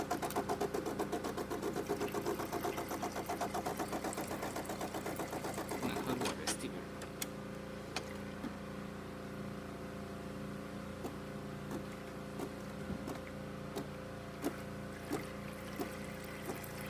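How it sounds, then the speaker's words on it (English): A De'Longhi Magnifica espresso machine's steamer runs close by: a rapid rhythmic pump pulsing for several seconds, then a softer, steady hiss broken by scattered clicks and knocks. "Now for the steamer."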